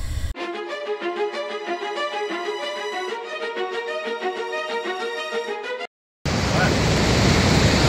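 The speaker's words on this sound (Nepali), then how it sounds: "यो बुङ झरना अत्यन्त रमणीय देखिन्छ" Music plays first, then it cuts to the Bung waterfall at Chyamche, Lamjung, on the Annapurna trail: a loud, steady roar of falling water heard up close for the final couple of seconds.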